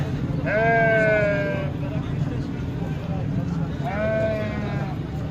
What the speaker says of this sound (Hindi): ये बकरा कुछ बेहतर है।